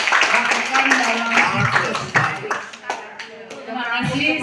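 An audience claps for a teacher, Ibu Tuti, after her school presentation. The applause is steady and close, with a voice talking over it throughout.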